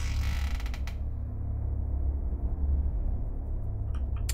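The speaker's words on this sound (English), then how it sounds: "Door just opened." A long, low creak of a door swinging open in a horror video game, steady and fairly loud over a rumbling background, with no voices.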